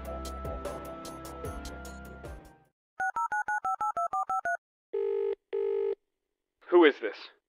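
A telephone in a video game: after a murky stretch of background sound, a rapid run of dial tones beeps out a number, followed by two long ring-back tones and a brief voice answering.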